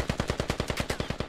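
Rapid automatic gunfire in a tactical shooter video game: about a dozen evenly spaced, loud shots in one unbroken burst, close and punchy, with no talking.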